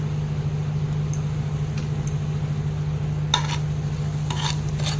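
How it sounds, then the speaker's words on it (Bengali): A spoon stirs Kashmiri red chili, turmeric and coriander powder with salt in a pan for a rui fish curry, soft scraping and occasional clinks over a steady low hum. "কাশ্মীরি লাল মির্চ পাউডার, হলুদ আর ধনের গুঁড়ো এটা দিয়ে ভালো করে একটু মিক্স করে নেব"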